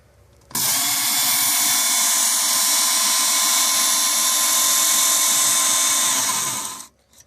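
A WorkSharp Ken Onion belt knife sharpener grinds a blade with a steady, loud, high-pitched whir that runs evenly for about six seconds before winding down.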